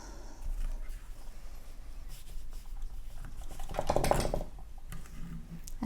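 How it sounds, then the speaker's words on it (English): Warp pegs are pulled from a Ricks beading loom, giving small close-up wooden clicks, scrapes and taps with a brief louder rattle toward the end. "now I'm going to remove the warp pegs"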